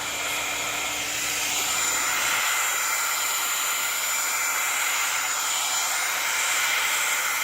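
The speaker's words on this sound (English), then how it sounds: "If I use a embossing gun, it might become more interesting. So let's try that. Here goes the embossing gun." An embossing heat gun blows steadily and loudly for several seconds over acrylic paint, a continuous close airy whir with a low hum.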